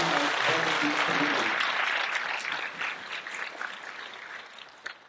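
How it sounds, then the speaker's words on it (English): Audience applause for a festival chair at a performing arts festival, a dense patter of many hands that swells loud at first, then gradually thins and fades, with a brief voice at the start. "Please give her a round of applause"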